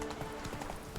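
Roach the horse from The Witcher 3 video game galloping, a quick steady patter of hoofbeats, faint and brief under a low background.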